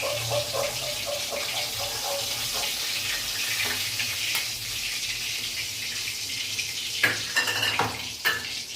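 Pabda fish frying in hot oil, giving a continuous sizzle with a stirring clatter and a few sharp utensil knocks near the end.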